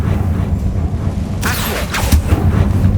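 Confringo blast spell cast in the Hogwarts Legacy video game, a pair of sharp bursting whooshes midway over a constant low rumbling game backdrop.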